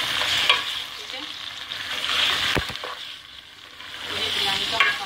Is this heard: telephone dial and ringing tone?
no